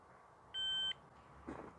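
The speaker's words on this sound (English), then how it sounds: "One beep." A single clear electronic beep from a digital weighing scale on an allotment, a steady tone lasting under half a second, with light background noise and a soft rustle afterward.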